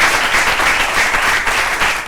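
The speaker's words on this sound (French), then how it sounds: "On applaudit l'intervention de notre pasteur." An audience applauds a pastor's talk at a French-language church gathering, with steady, dense clapping that stays loud and even throughout.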